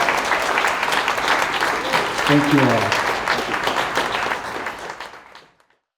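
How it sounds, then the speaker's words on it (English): Audience applause for board members at a state-of-the-state summit, a dense, steady wash of clapping from a full room lasting about five seconds before cutting off, with a brief spoken thanks partway through. "let's give one more round of applause for all of the board members"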